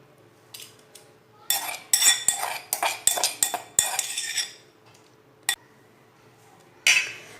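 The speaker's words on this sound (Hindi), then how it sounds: "सब्ज़ मिर्चों को प्लेट में डाल लेते हैं।" Crushed green chillies scraped and tapped onto a plate with a metal utensil, a burst of clinks and scrapes followed by a few isolated taps, close and fairly loud.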